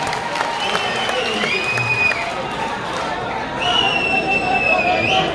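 An audience at a mushaira poetry gathering in Parbhani claps in a steady burst, mixed with crowd murmur and a few whistle-like tones, fairly loud and close.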